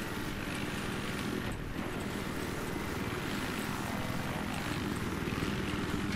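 Helicopter in the Battlefield 3 video game, a loud continuous rotor and engine drone with steady thrumming that stays constant and close the whole time, with no voices over it.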